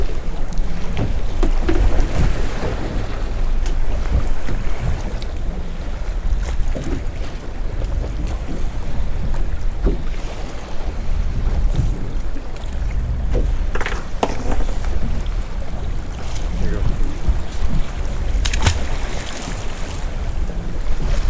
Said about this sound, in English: The fish are right in the most turbulent part. This is an absolute maelstrom.